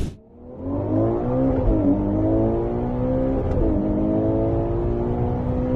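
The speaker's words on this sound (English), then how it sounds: "Ferrari has even revealed what it sounds like." A Ferrari SUV engine fires up and revs, then holds a deep, rich, steady drone, with its pitch rising and falling slightly, heard close and loud throughout.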